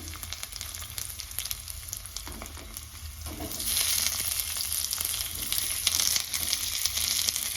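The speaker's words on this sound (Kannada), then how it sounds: "ಮಸಾಲೆ ಅದನ್ನು ನಾನಿಲ್ಲಿ ಸ್ವಲ್ಪ ಫ್ರೈ ಮಾಡ್ಕೊಳ್ತೀನಿ" Ground masala with onion and tomato fries in a pan for a chickpea and peas curry, giving a continuous close sizzle that swells noticeably louder and hissier partway through, with no talking.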